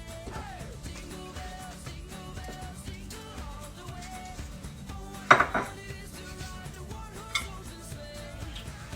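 A spoon stirs Abuelita chocolate tablets into milk in a pot, giving steady light scraping and clinking against the metal, with one sharper clank partway through and no talking.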